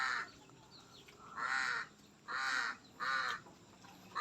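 A crow perched up in a mango tree on a small farm gives four rasping caws in a slow, uneven rhythm, fairly faint and distant, with no talking.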